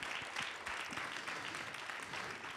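People at a youth-work gathering applaud three young participants, a continuous, moderately faint wash of clapping from a room audience.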